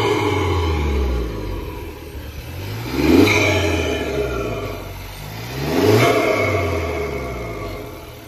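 A Volkswagen Jetta 1.4T turbo, a 2016 Mark 6 with resonator delete and a quarter intake, sits idling steadily and then revs twice, with each climb and fall clearly audible up close.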